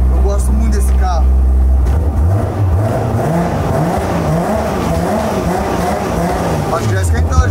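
A car's engine idles and revs while warming up at the Autódromo de Londrina racetrack, a loud, close throbbing drone with wavering pitch and rising and falling revs throughout.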